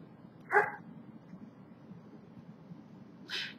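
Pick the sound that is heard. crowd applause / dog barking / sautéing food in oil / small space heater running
dog barking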